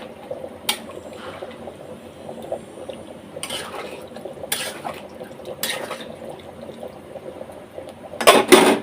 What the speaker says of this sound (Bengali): এখন আবার আমি পানি দিয়ে দিচ্ছি